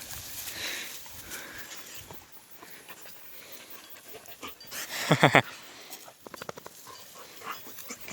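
A dog waiting outdoors beside a bag and stick under a tree pants softly in quick, breathy bursts, with a few louder sniffs and whimpers midway, at a faint-to-moderate level close by.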